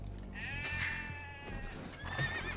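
Sheep in a video game bleat in two clear, close calls, one long and one short, with no talk over them.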